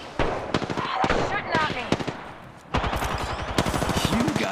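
Gunfire in Apex Legends, rapid automatic bursts rattling close and loud in several volleys, with a short pause before a final sustained stream of shots, under intermittent voice lines.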